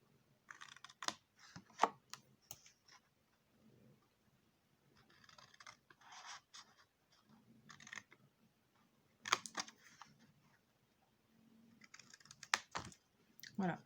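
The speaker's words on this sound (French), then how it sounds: "Je vais couper ici." Scissors snip through folded paper for a snowflake lantern, in quiet bursts of short crisp cuts separated by pauses.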